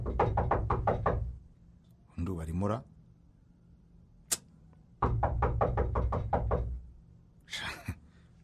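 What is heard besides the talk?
knocking on a door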